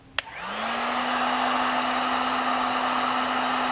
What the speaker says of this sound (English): Now you want to use a heat source and heat shrink all your butt connectors.